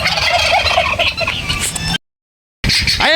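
RB turkeys gobbling in a poultry yard, loud rapid gobbling rattles up close, broken by a brief silent gap before another burst of gobbling.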